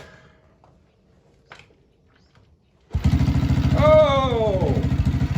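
A small Yamaha TTR90 dirt bike engine fires up after quiet fiddling at the controls, then idles with a loud, rapid, steady putter close by, a brief revving rise partway in.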